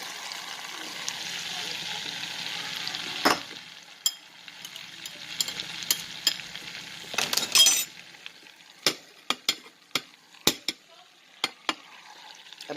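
Onion, green pepper, scallion and thyme drop into hot butter with a soft sizzle, followed by a run of sharp clinks and taps of a utensil against the pan, all without talk.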